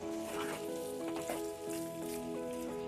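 Chinese potato (koorka) cooking with masala in a pan gives off a steady, close sizzle, with a few brief stirring sounds over the frying.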